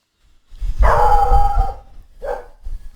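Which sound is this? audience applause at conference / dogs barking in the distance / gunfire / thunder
dogs barking in the distance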